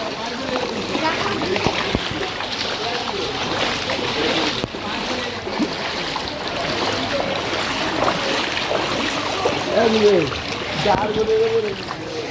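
A boat pushes through floodwater in flooded Sreebhumi during Durga Puja, a steady wash of water and engine-like rumble throughout, with people talking over it.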